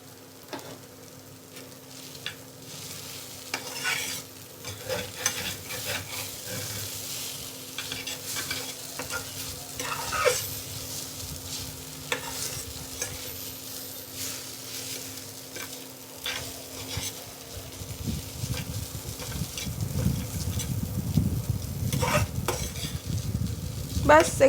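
Chopped onion and green chilli frying in a pan of Maggi noodles, with a steady soft sizzle, scraping stirs and clinks of a utensil against the pan, building louder toward the end.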